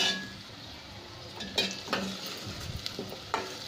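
Thick green chillies cut into pieces fry with curry leaves in a pan for besan khandvi, giving a steady close sizzle broken by a few light clinks and scrapes of stirring.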